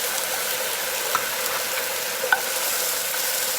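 Garlic and onions sizzling steadily in a hot pan while being stirred, a loud, even frying hiss with a couple of faint utensil clicks, and no talking.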